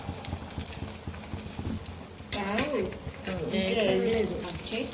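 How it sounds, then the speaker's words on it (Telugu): Burelu, sweet stuffed dumplings, fry in hot oil at home for the Ugadi festival, giving a continuous crackling sizzle that grows busier partway through, with voices talking over it. "అక్క బూరెలు వేస్తుంది తోపులో."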